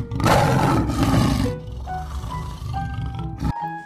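A toy lion lets out a loud, rough electronic roar that fades into a chime-like jingle, heard close up with no talking over it.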